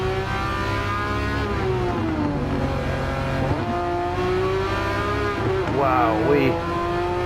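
Porsche GT3 RS race engine heard from inside the cabin in Gran Turismo 7, a loud steady drone rising and falling through gear changes with brief tyre squeal, close and constant, with a short spoken exclamation near the end.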